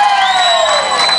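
A crowd at a Vela Muxe festival cheers for the 2011 queen with loud, shrill sustained whoops and screams that rise and hold high, filling the whole moment.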